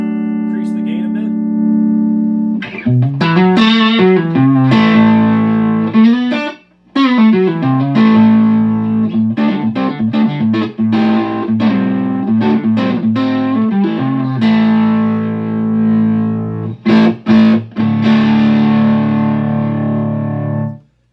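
An electric guitar plays through a Feather 5 pentode preamp with the gain raised, giving a loud, driven tone. Held chords mix with choppy picked runs and sharp stabs, and no one talks over it.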